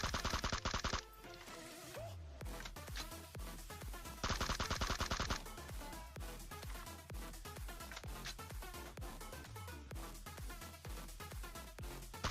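M4 rifle fire in the mobile game PUBG Mobile, two bursts of rapid automatic shots heard over loud, busy game sound and music that continues throughout.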